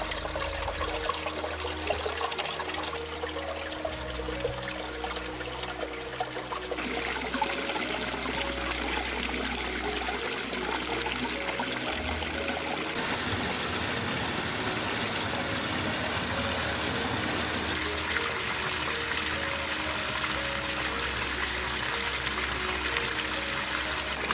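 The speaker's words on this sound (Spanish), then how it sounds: "bajan por el barranco dando su espectáculo de frescura, con pequeñas cascadas de agua, rápidos o simplemente aguas que se remansan" A stream in a ravine flows down over small cascades and rapids, a continuous soft rushing and trickling of water that carries on throughout with no talking.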